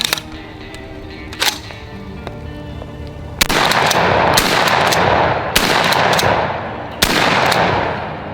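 Blackwater Sentry 12 shotgun firing 3-inch steel shot outdoors: several loud, sharp blasts spaced a second or two apart, each with a short decay, the first preceded by softer mechanical clicks and handling.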